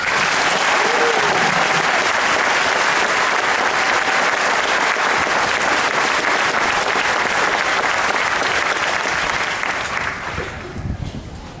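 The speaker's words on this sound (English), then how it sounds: "Please join me in a round of applause recognizing our drill sergeants." An audience at an army graduation ceremony gives a long round of applause for drill sergeants, thick continuous clapping at full loudness that thins and fades near the end.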